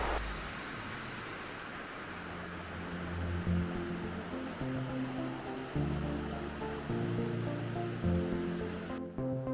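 Rapids on the Saint-Charles River in a wooded linear park, a steady, dense rush of churning water that carries on unbroken from start to end.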